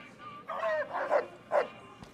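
A half-machine robot dog in Fallout New Vegas lets out a string of close, loud barks and yips with an odd, processed edge, three or four bursts in a row.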